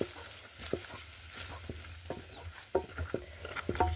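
Food fries in a pan with a steady sizzle, punctuated by repeated scraping and stirring knocks at an uneven rhythm; the stirring is close and fairly quiet, and no one speaks.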